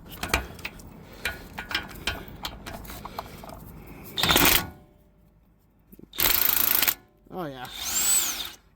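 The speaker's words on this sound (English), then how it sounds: "I might go back to the big power tool" Loud bursts from a big power tool working a lower control arm ball joint on a 1998 Toyota Tacoma truck: two long harsh runs and a shorter one, after clanking tool handling and brief talk.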